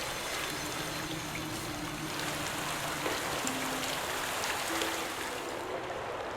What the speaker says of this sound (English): Really nice water effect, the way it flows